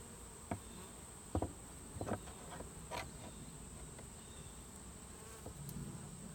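Honey bees hum steadily during a hive inspection, a thin continuous buzz with scattered clicks and knocks of wooden sticks and frames being handled nearby.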